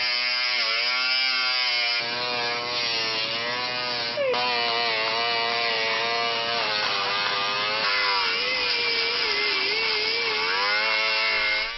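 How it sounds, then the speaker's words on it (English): A power grinder whines steadily while resurfacing a brake rotor during a brake job, with a loud continuous tone that shifts in pitch as the load changes, up close and without talk. "We do this using the grinder on the surface and a piece of emery cloth for the inside rim."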